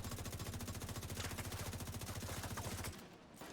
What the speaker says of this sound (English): He's shooting, but he's not hitting me.